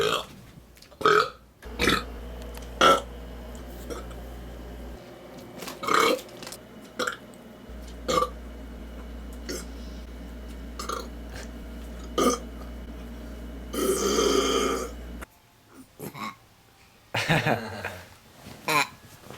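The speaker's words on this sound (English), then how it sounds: "You can burp with water." Several loud burps after drinking water come one after another at irregular intervals, each short and throaty, with a longer drawn-out belch near the end over a quiet background hum.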